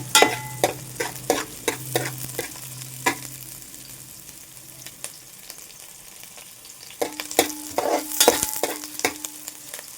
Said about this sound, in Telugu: ఆనియన్ పచ్చిమిర్చి బాగా వేగడం అవసరం లేదు లైట్ లైట్గా వేగితే సరిపోతుంది